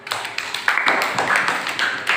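Several short hand claps in a row in a classroom, fairly close and moderately loud, after a child's marble rolled off and fell from a table.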